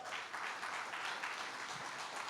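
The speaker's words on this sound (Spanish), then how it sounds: "Dele un fuerte aplauso al Señor." A congregation gives strong applause in a Spanish-language church service, heard as a faint, steady wash of many hands clapping at a distance, with no voices over it.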